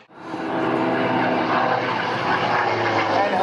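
Hawker Sea Fury propeller aircraft flying at the Shellharbour airshow, a loud sustained engine roar that swells in quickly and holds steady, with a commentator's voice faintly underneath.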